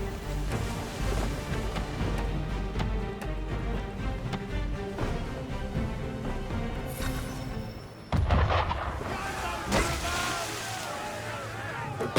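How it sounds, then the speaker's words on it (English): Heavy ship cannon fire rolls across open sea in Assassin's Creed III, a dense barrage of deep booms over surf and wash, with a sharp louder blast near the end and voices talking underneath. "Why is he shooting at us?"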